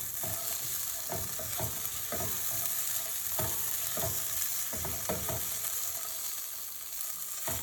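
Food frying in a pan for a South Indian thali gives a steady, fairly faint sizzle throughout, broken by irregular scraping knocks as a spatula stirs it. No one speaks.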